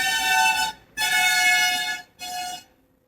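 A vehicle horn blares in three blasts, two long and one shorter, loud and close with short silent gaps between them.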